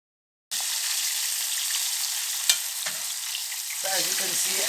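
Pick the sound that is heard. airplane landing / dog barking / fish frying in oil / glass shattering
fish frying in oil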